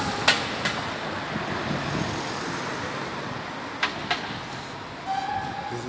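A train pulls into Manchester Victoria station, a steady broad rumble of wheels and carriages with a few sharp metallic squeals and clanks rising over the continuous noise.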